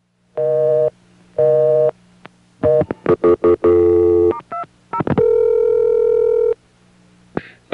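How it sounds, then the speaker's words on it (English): Electronic telephone tones from a 1A ESS Centrex line calling a busy test number: two short steady tone bursts, a quick run of dialing beeps and chirps, then one longer sustained tone, all clean and close. "It is a busy test number, and so it will behave the same way as would a call to a person who had answered his phone."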